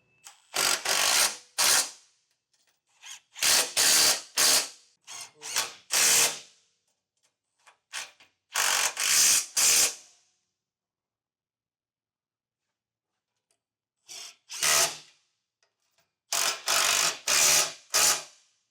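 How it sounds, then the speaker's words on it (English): A ratchet with a 13mm socket tightens bolts that fix vehicle running boards to their brackets, clicking in quick loud bursts of a few strokes each, separated by short silent pauses. "we can tighten down the running boards to the brackets with a 13mm socket"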